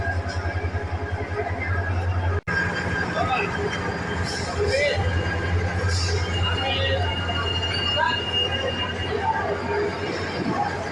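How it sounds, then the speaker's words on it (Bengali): Mahanagar Express standing at platform 5 of a busy station, a steady low rumbling drone with a constant crowd murmur and scattered clatter throughout, one brief cut partway. "এটাই আমাদের আজকের ট্রেন, মহানগর এক্সপ্রেস।"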